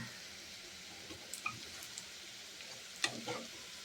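Fritters of ridge gourd peel frying in hot oil, a faint, steady sizzle with a few soft clicks and stirring taps, close and quiet with no talking.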